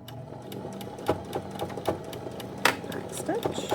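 A sewing machine back stitches over a thick sweatshirt seam. It gives a close, clattering run of rapid stitching with uneven knocks and surges as the needle struggles through the bulky fabric, with a voice talking in the background.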